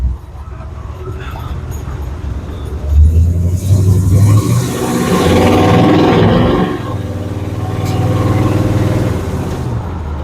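A Chevrolet C10 pickup's engine runs close by, rising into a couple of revs before settling back to a steady idle, with people talking over it.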